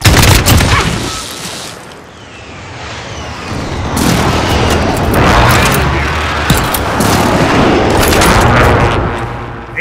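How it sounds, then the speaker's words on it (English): Precision airstrike explosions in Call of Duty: Modern Warfare 2019, a team deathmatch on PS5: a loud booming barrage of blasts and crashing impacts mixed with bursts of gunfire, rolling on without pause. "Precision airstrike, take cover!"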